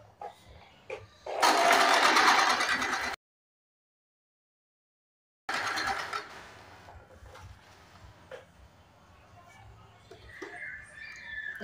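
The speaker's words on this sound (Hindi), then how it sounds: "एक सीधी सिलाई लगा देंगे।" A sewing machine runs a straight seam attaching a waistband to a four-tuck belt blouse: one loud, fast burst of stitching, a pause, then a second shorter run that trails off into quieter handling noise.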